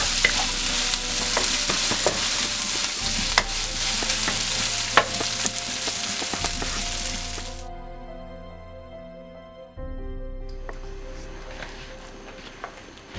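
Chicken tikka cooking on a high flame, a loud, bright sizzle with the scrape and clatter of stirring. The frying cuts out briefly partway through, leaving only quiet clinks, then returns more softly.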